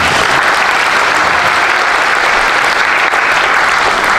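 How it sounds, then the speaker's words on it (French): Loud, dense applause from a crowd of Parisian supporters of Benjamin Griveaux at a 2020 municipal election campaign event, continuous clapping throughout with no pause. "On peut l'applaudir."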